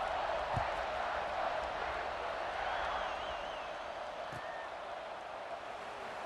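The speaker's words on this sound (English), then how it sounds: "this crowd is buzzing after that last score" A football stadium crowd at a Hawaii versus Ohio State game keeps up a steady, faint, distant buzz after a score, a continuous wash of murmur with no sharp peaks.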